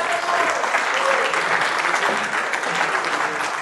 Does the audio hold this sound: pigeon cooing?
no